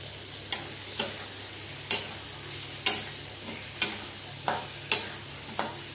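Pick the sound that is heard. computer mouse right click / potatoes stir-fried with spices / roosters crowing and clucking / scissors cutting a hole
potatoes stir-fried with spices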